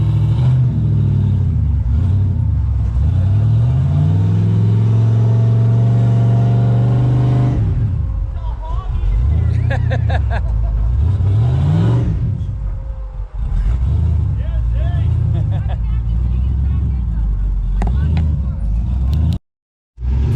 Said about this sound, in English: After warming these tires up for a bit, they finally bite and crawl up to the next section of this.